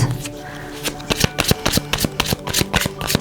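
Tarot cards are shuffled close up, producing a loud run of crisp, rapid flapping riffles with a brief muffled moment at the start.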